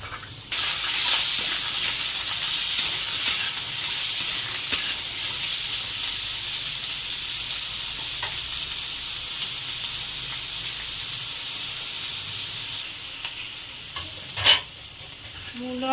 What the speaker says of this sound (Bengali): এবার আলু আর মূলো ভেজে নেব।